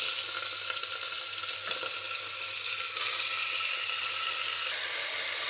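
Chicken pieces fry in oil inside a pressure cooker, giving a steady, even sizzle that stays constant and moderately quiet throughout, with no voices.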